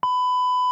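A loud, steady censor bleep, a pure electronic tone, sounds once and holds for most of a second, cutting out a spoken word with no talk audible over it.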